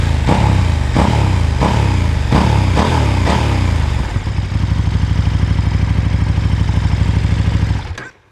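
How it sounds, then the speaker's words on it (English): A 2019 KTM Super Duke 1290 R's stock exhaust revs in several sharp throttle blips, then settles into a steady, deep idle before cutting off at the end. "Stock exhaust on this, really good sound."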